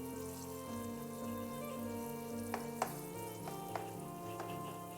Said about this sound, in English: My rice is boiling together.